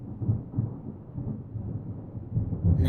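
Low rumbling thunder rolls continuously in the video game Deadly Premonition 2, a deep sustained growl with swelling surges and a louder build at the end, heard alone.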